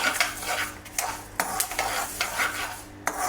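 Spices crackling and spitting in hot oil for Andhra-style ulavakattu, a busy close sizzle broken by sharp stirring scrapes and spoon knocks that recur every second or so.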